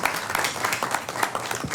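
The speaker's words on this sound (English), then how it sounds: "I'll give you applause." An audience at a transportation authority board meeting gives a short burst of applause for a retiree, many hands clapping together in a dense, even patter with no speech over it.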